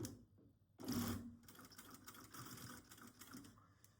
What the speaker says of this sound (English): you are going to start to sew this part here